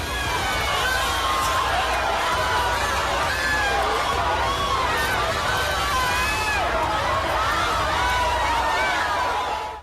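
A huge crowd at the funeral procession of Sub-inspector Mir Arshid in Kashmir: dense, constant hubbub of many voices and shouting, loud and close, with no break.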